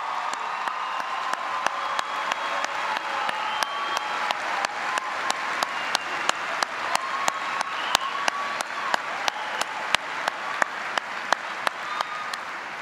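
Sustained applause for graduating students at a high school commencement, a broad steady wash of many hands clapping from a large crowd, with a few sharp individual claps standing out throughout.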